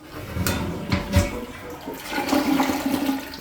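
A residential toilet flushes close by, a loud rushing surge of water that swirls and gurgles, then settles into a steady refill hiss.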